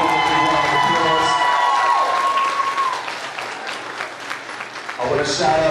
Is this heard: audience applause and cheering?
yes